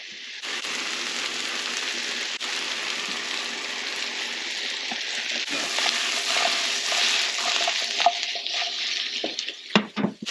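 Salami slices frying in a small pan for an Italian frittata, a loud, dense, continuous sizzle with a few clatters of utensil against pan near the end.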